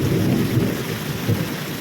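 Deep rumbling thunder rolls continuously through a steady downpour of heavy monsoon rain, on the first day of the monsoon.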